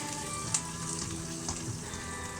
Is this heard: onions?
yes